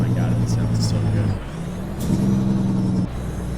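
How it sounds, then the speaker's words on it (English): A Kenworth truck's Jake brake in American Truck Simulator rumbles loud and steady in a low, droning engine tone, dropping in pitch midway and then returning, with brief hissing bursts above it. "I'm going to turn on that Jake brake."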